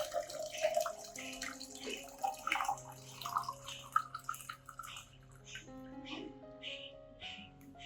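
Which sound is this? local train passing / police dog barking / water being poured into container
water being poured into container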